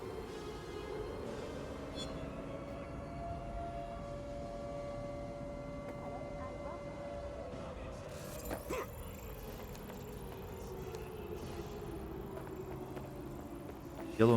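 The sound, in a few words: siren in a video game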